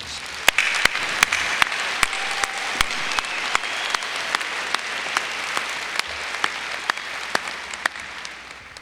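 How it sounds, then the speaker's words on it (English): Audience applause for graduates at a spring commencement of business and engineering schools, a broad continuous roar of many hands, with a few sharper individual claps standing out throughout. "Let's give them a round of applause."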